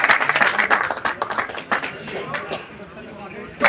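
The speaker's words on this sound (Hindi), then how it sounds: "सभी लोग जोरदार तालियों से स्वागत करें।" A crowd at a dargah committee gathering claps to welcome honored guests, a burst of close, loud hand claps that thins out and fades over a few seconds amid background voices and room noise.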